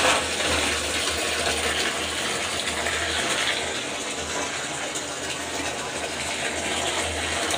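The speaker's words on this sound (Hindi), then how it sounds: "तो यहाँ पर पानी भर रहा है" Water gushes steadily from a tap into a household container, a loud continuous rushing fill that persists throughout with little change, a low hum underneath.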